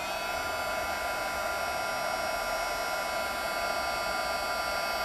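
Heat embossing tool blowing hot air over a stamped card panel, a steady loud whooshing fan roar with a constant whine, unbroken throughout and without voices.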